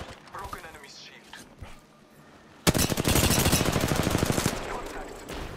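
Rapid automatic gunfire from the video game Apex Legends bursts in loudly partway through and keeps rattling steadily to the end, preceded by quieter game sounds and talk.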